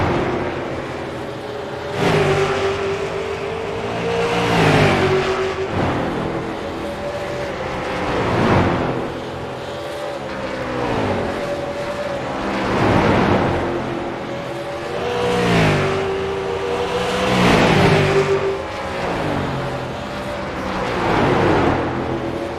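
Super late model race cars circle Bristol in a repeating pattern of loud pass-bys, each engine surge rising and fading every few seconds, with pitch sliding as the cars go past.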